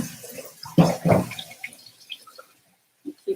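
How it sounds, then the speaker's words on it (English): Cold water pours into a pot of eggs in a kitchen, giving a short close splashing burst that tapers into scattered drips and a final couple of small splashes. "I'm gonna put some more cold water in the eggs here."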